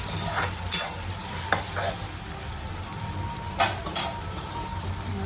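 Maggi noodles are stirred in a hot pan with tomato and masala, a steady close sizzle broken by several scraping strokes of the spoon against the pan.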